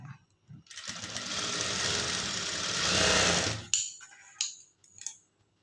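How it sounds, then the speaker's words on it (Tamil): A sewing machine stitches a high-neck blouse in one steady, loud whirring run of about three seconds, then stops, leaving a few short clicks and fabric handling sounds. "நான் அப்படியே வந்து தையல் போட்டுக்கிறேன்"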